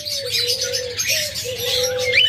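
A breeding pair of grey pet birds kept for sale call in repeated sustained tonal notes, with soft chirps and twittering over a low background hum, close by and without talk.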